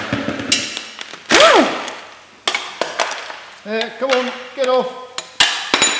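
Sharp metal hammer blows strike engine pulleys on a hydro-locked engine, irregular loud clanks with ringing metallic tones and brief scrapes between them, and someone speaks briefly among the strikes.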